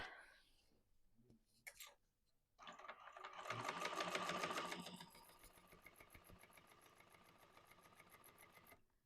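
A sewing machine top stitching along a quilt edge starts up after a few handling clicks and runs in a fast, steady rhythmic whir. It is quiet and close, with no talk.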